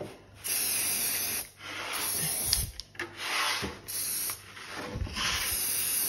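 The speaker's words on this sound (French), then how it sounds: "je vais mettre un petit peu de spray, vous voyez, velours dessus" Velvet spray hisses onto a salted caramel Yule log cake in several short, close bursts separated by brief pauses, with faint handling rubs between sprays.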